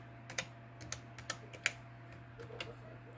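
Fingers tap on a computer keyboard, about a dozen quiet, irregular clicks over a steady low hum in an indoor room.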